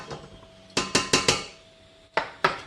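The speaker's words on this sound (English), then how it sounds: "continuing to whisk it up." A whisk clinks and clatters against a pot while an egg and milk custard is beaten, in two close bursts of sharp metallic strikes with a short pause between.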